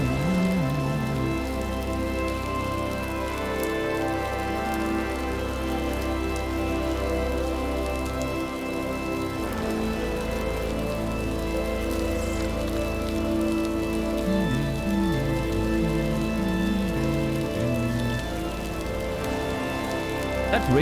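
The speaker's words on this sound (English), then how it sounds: "That rain sound is very obnoxious. It's very loud." Loud, constant rain plays in the video game Returnal, a dense steady hiss under sustained tonal music and game sounds, with no voices.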